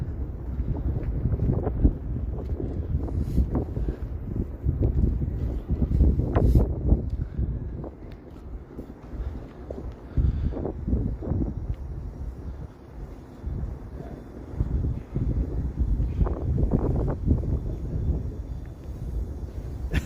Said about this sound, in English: Just wind blowing through streets with tall buildings, right? You get that wind tunnel effect.